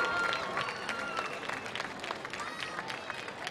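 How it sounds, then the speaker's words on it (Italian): Crowd applauding a drum display at the Palio dei Normanni historical festival, dense and sustained clapping throughout, with some voices faintly mixed into the crowd noise. "Facciamo un applauso per questo spettacolare modo di eseguire"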